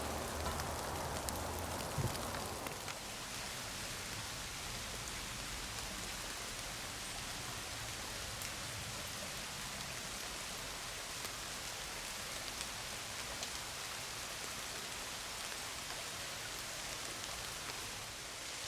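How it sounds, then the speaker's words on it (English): Faint, steady rain patters continuously in the background, an even soft hiss with no other sounds standing out. "you can hear it raining right now."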